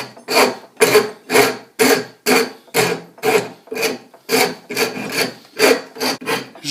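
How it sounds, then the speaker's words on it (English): A short pattern maker's rasp files wood while shaping a Windsor chair part, a coarse rasping stroke repeated about a dozen times in a steady back-and-forth rhythm, loud and close with no talk. "This is a short pattern maker's rasp."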